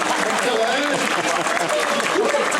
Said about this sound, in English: How about a big round of applause for my volunteer, everybody?